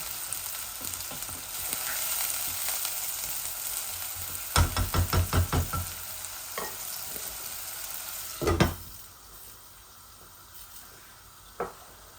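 Onions frying in a pan with salt, a soft continuous sizzle broken by a quick run of stirring scrapes and a couple of louder single knocks, close up with no talking.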